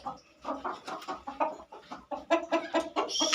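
Several hens cluck in quick, uneven bursts, close by and fairly loud, overlapping one another throughout with no talking, in an indoor coop made from a room in a house.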